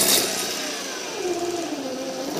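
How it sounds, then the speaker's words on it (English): A 24-volt electric motor runs under load during a volts and amps test, a steady close whirring drone with a faint shifting hum and no breaks, heard without talk. "Now I'll put a load on the motor."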